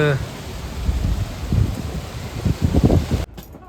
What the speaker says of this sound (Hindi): बहुत तेज़ हवा चल रही है, तेज़ आंधी चलने लगी है